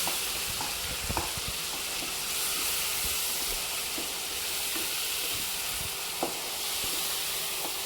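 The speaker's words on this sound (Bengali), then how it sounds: "পেঁয়াজ বাটা দিয়ে দিলাম পেঁয়াজ বাটাটা একটু নাড়াচাড়া করে নেবো" Onion paste frying in a pan for a chicken gravy, a steady soft sizzle with occasional light scrapes and taps of a spoon as it is stirred, continuous and close with no talking.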